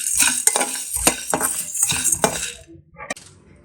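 Coriander seeds, chana dal, cumin, cinnamon and cloves roasting in a hot kadai, with a spoon scraping and clinking against the metal in short stirring strokes, close and fairly loud, alone with no talk.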